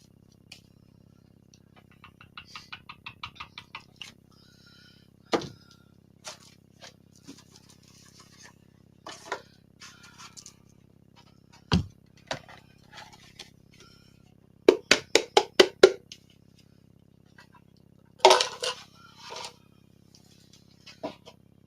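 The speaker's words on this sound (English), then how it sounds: "I'm just going to whisk this all together." Whisking ingredients together in a bowl for strawberry shortcake cookies or Linzer tart bars, heard as clusters of quick clinking strokes in bursts separated by pauses, moderately close, with no talking.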